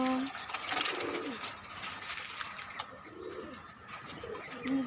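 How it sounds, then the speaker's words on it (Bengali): Doves in a rooftop garden coo softly in repeated low phrases, distant and faint over a light background hum. "ঘুঘু পাখি আছে এদিকে"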